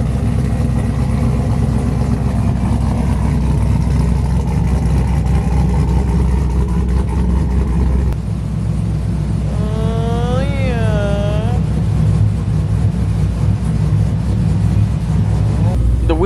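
An LS-swapped 2007 Chevrolet Trailblazer LT engine runs steadily with a loud, deep rumble, rising slightly in a brief rev, while people talk nearby.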